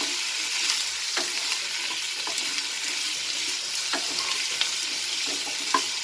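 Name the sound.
potatoes sautéing in a pan with brinjal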